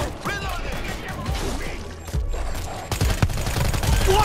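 Explosives detonating amid gunfire in the zombie shooter World War Z, Jerusalem level: loud bursts of blasts and rapid shots with crashing debris, building heavier toward the end.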